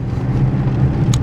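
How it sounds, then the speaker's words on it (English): A Nissan D40 Navara cruises on a highway at steady throttle, a low continuous engine and road drone with no change in pitch, heard briefly and up close from inside the cab. "Right now I'm driving on a highway at steady gas"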